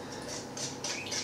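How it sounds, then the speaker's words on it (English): A pet budgie squawks and chirps in a kitchen, several short bright calls in bursts over a steady low room hum, somewhat distant and without talk. "You can hear our budgie in the background there chirping away"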